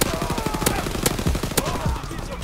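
Rapid M-38 submachine gun fire in Call of Duty WW2, sharp repeated bursts of close, loud shots in quick rhythm over a dense game soundscape.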